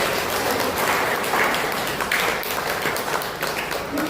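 Steady applause from an audience at a community gathering, dense and continuous for about four seconds with no pauses.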